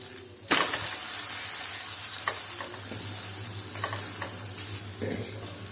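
Ragi roti cooking in a hot pan, giving a steady, close sizzle of frying dough with a low hum beneath and small scraping clicks now and then.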